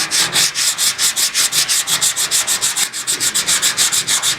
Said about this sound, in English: helps if you sand in the right area.